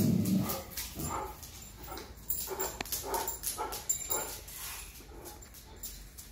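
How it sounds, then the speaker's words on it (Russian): A dog at a summer house barks and yips repeatedly in short irregular bursts, with some whimpering between, fairly near. "Кто там лает?"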